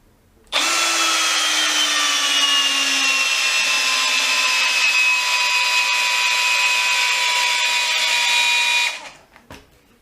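A Makita HP332 12V cordless drill runs at full speed in first gear for about eight seconds, a loud, close, high motor whine that slowly drops in pitch under load before cutting out on overload.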